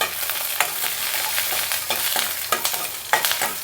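Green chili and ginger sautéing in oil in a kadai, a bright constant sizzle close up punctuated by repeated scraping strokes of stirring, no voices.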